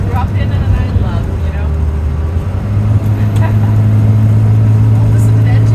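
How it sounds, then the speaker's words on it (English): A deep, steady diesel engine rumble from a 2021-2022 Thomas C2 school bus with a Cummins B6.7 engine drones close by, growing louder and heavier halfway through as it works harder, with faint voices underneath. "Oh, listen to that engine, Jaden."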